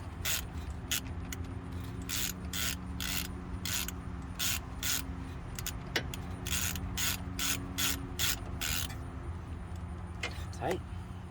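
A ratchet tightens the front caliper bolts on a 2013 Kia Optima with a steady run of sharp, rapid clicking bursts close to the microphone, separated by short pauses and ending in a couple of quieter knocks.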